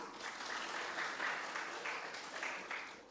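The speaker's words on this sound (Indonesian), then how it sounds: "Tepuk tangan untuk Tuhan." Congregation applauding in a church service, a faint, distant, even wash of clapping that continues steadily throughout without breaks.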